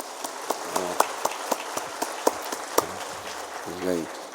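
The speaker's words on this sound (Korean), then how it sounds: "우리 뜨거운 박수로 축복하십시다." A church congregation claps during a Sunday worship service after a blessing prayer. The claps are sparse and uneven, come from a modest number of hands and spread out over several seconds, with short bits of voice breaking in.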